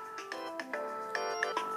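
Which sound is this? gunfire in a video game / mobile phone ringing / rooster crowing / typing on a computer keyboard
mobile phone ringing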